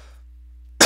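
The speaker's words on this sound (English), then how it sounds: "I'm gonna keep coughing until I get something to drink" A man coughs once, loud and close to the microphone, in a sudden harsh burst that breaks a near-silent pause over a faint low hum.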